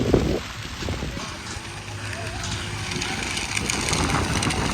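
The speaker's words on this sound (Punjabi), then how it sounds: "ਹਵਾ ਬਹੁਤ ਚੱਲ ਪਈ ਤੇਜ਼ ਹੋ ਗਿਆ" A strong wind hisses and rustles steadily across a standing wheat field in Harigarh village, Sangrur district, a continuous broadband rush at moderate loudness with a voice near the start.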